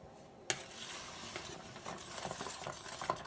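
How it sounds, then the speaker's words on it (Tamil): Semolina (rava) being stirred into a pan for rava kesari, a steady soft scraping and rustling with light utensil taps against the pan, continuous and close throughout. "போடும்போது இந்த மாதிரி மிக்ஸ் பண்ணிகிட்டே இருங்க"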